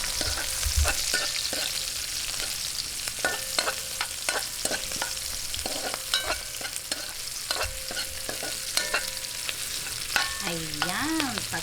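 Onion goes into a hot pan of laing ingredients, bringing steady frying and sizzling with scattered stirring scrapes of the spoon against the pan, close and continuous, with no talk.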